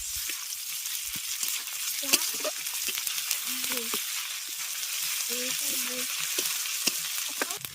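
Ginger, cumin and dried chili paste frying with chopped onions in a pan, a steady close sizzle throughout with occasional stirring scrapes and brief faint voice fragments.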